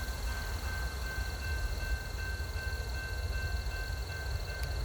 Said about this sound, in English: BNSF LHLA 840 with BNSF 3019 leading the way would roll through Carbon Hill.